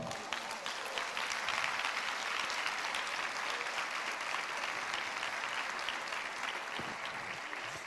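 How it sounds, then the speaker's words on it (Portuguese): A church congregation claps for the Lord during a sermon, a dense, steady applause that holds at an even level for several seconds with no voice over it. "Dê um aplauso ao Senhor aí"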